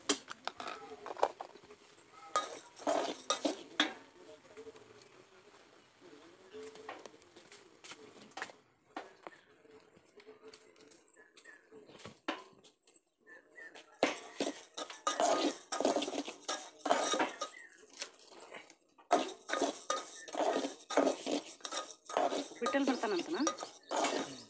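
Semolina grits are stirred and roasted in a metal pan for uppittu, making irregular scraping and clinking bursts of spoon on pan with short pauses between strokes.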